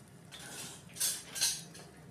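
A spoon clinks and scrapes against a pot while stirring chips into mudakathan soup, with two brief brighter metallic strokes, close but quiet.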